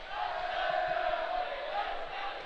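Crowd noise at a dodgeball Euros 2025 finals match, a steady continuous roar of cheering and shouting from many spectators that holds at an even loudness throughout.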